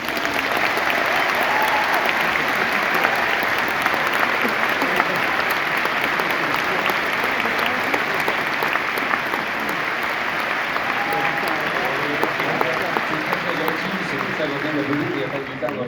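A concert audience at La Seine Musicale applauds warmly during a ciné-concert of Les Choristes, a dense, sustained wash of clapping that stays loud and even throughout.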